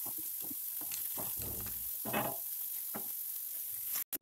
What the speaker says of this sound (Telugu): ఇంకో ప్యాన్ తీసుకొని అందులో నువ్వులు ఫ్రై చేయండి